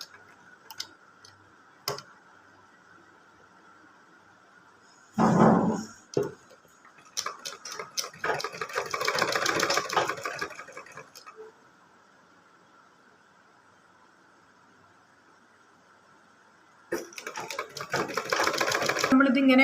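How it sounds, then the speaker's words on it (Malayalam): A sewing machine stitches a maxi dress in a few separate bursts: a short loud start, a longer run of rapid ticking stitches, a pause, then another run at the end, with quiet gaps between. "ഇനി നമുക്ക് സ്റ്റിച്ച് ചെയ്യാം. പതുക്കെ ഇങ്ങനെ സ്റ്റിച്ച് ചെയ്യുക."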